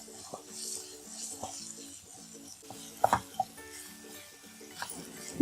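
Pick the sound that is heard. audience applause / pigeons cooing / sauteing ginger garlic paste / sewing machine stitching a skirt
sauteing ginger garlic paste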